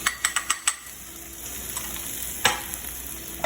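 Onions and tomatoes hitting a teaspoon of hot oil in a skillet, opening with a quick run of clacking taps and then settling into a steady, close sizzle with another clatter partway through.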